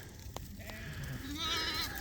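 Sheep being moved to a new row on a farm bleat a few times at moderate distance, wavering calls over soft outdoor background noise.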